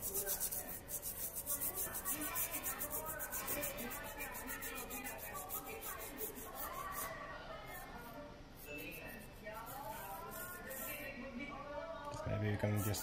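Rubbing and scraping sounds from cleaning a chip on an Amiga 500 Plus circuit board, a steady rapid scrubbing rhythm that continues for several seconds.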